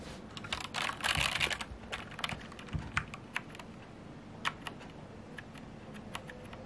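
Rapid clicking of keys on a computer keyboard, a dense flurry early on, then scattered individual keystrokes, close and fairly quiet with no talking.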